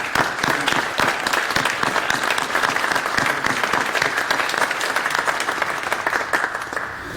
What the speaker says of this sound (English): I would like everyone in here to applaud for Anhidallah and you, Mr. Gacha, for this